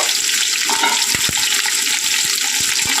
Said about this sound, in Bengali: এটা আমরা এবার ঢাকা দিয়ে ভাজা ভাজা করব।